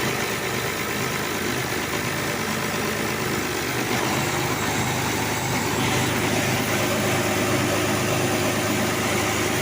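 Case 1594 tractor with Hydra Shift transmission, engine running in third gear, a steady, loud mechanical drone that holds evenly throughout with no speech.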